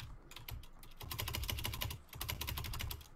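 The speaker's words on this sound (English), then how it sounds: "I hear you just slamming on the keyboard." A computer keyboard is hammered hard during a gaming stream of RAFT, with rapid bursts of loud, clattering keystrokes broken by a brief pause.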